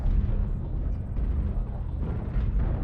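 Artillery strike explosions in the MechWarrior Online video game: a dense, continuous low rumble of blasts and impacts, moderately loud, rolling on without clear gaps and with no voices.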